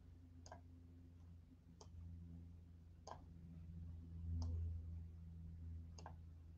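Computer mouse clicks at a sewing-design program, five sharp, faint single clicks spaced about a second apart over a low steady hum, with no talk.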